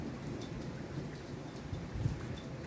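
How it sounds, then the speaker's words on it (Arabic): A thunderstorm pours down steady, heavy rain over a low, continuous rumble of thunder. No voices are heard. "الرعد عندنا"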